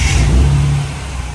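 A Ford BA Falcon drift car's engine catches on its first real start and revs, a loud, close, deep rumble that swells and then settles slightly lower.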